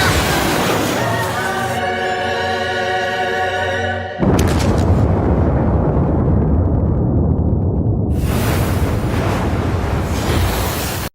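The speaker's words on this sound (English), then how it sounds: "you get an extra chance for revenge if you end up crashing by casting a max level explosion spell" Explosion spell blasting rival cars in a Burnout racing game, a loud booming burst after a sustained engine drone, followed by a long roaring, rumbling wash of debris noise.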